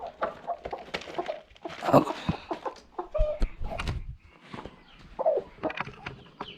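A household votive rooster clucks and calls in short, irregular bursts close by, with scattered softer fowl sounds between the louder notes.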